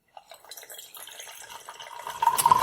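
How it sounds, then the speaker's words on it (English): Wine poured dramatically: liquid begins trickling after a brief silence, then builds into a louder, gurgling stream that fills steadily toward the end. "This is dramatic wine pouring."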